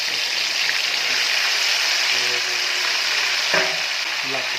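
Tandoori chicken pieces fry in hot oil in a pan on a gas stove, a loud continuous sizzle with bubbling crackle and a few brief clinks of the pan close up.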